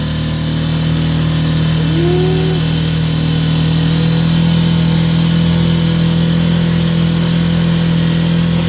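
A small 4-6 hp outboard boat motor runs at full throttle, giving a steady, unbroken mid-pitched drone that stays close and constant throughout.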